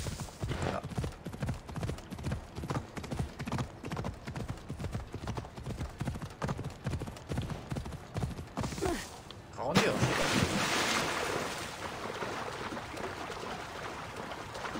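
A horse gallops in the video game Assassin's Creed Odyssey, its hooves clip-clopping in a fast, steady rhythm for about nine seconds before giving way to a rushing burst of noise and a softer ambient wash.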